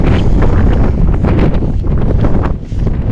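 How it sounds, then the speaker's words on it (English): Loud, gusty wind buffeting the microphone, a continuous roaring rumble with brief dips, no voices. "It's very windy over here."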